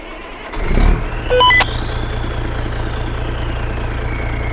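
In Farming Simulator 22, a turbocharged tractor engine cranks and fires up, followed by a few short electronic beeps and then a steady, loud idle with a rising turbo whine, with no talking.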